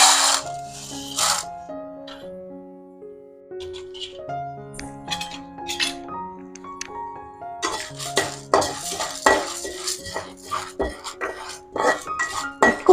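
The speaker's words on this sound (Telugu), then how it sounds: "ఇప్పుడు మనం కందిపప్పు వేసుకుందాం" Toor dal is tipped into a hot iron kadai and roasted, giving sparse metallic clinks and rattles that grow busier and more scraping toward the end, over faint tonal background music.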